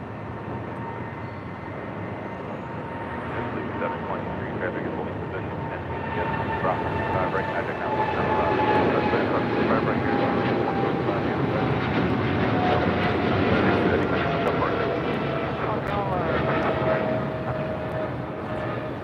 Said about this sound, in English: the 777 freighter heading to Tokyo Narita. This is flight 262, Kaleta Air